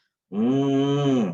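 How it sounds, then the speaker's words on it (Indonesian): A water buffalo lets out a single sustained, low, cow-like call lasting about a second, loud and close, heard alone with no talk. "Kemudian kerbaunya mengeluarkan suara."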